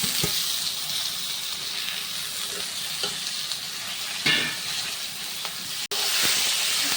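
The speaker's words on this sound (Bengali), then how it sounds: "মাশরুমগুলো আমি এখন দিয়ে দেব।" Boiled mushrooms dropped into a pan of spices frying in oil, producing a continuous close hiss and sizzle with a few stirring knocks and a sharp clatter near the end, no talking.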